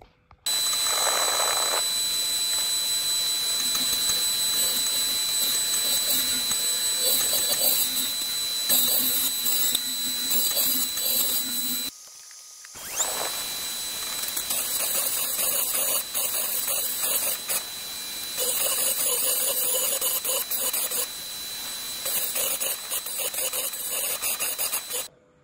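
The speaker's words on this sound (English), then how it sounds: "the drilling didn't go too bad at all" A small drill whines continuously with a high, grinding buzz and shifting scraping textures as it drills through synthetic ruby. It stops briefly about halfway through, then starts again.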